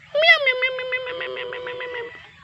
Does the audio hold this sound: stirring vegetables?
no